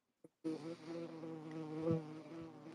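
A stinging insect buzzing close by in a yard with orange, lemon and lime trees, a steady droning hum rising and falling slightly, alone after a faint tap.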